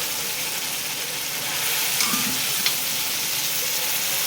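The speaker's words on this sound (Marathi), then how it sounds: "आता यामध्ये तो आपण छोले जे बॉईल केले होते आपण सगळे." Boiled chickpeas hit frying chole masala in a hot pan, giving a steady broad sizzle with a brief louder burst and crackle partway through, close and without talk.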